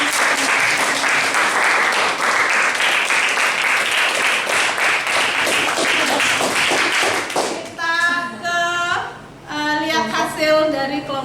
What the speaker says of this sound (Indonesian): Kasih tepuk tangan lagi sekali dulu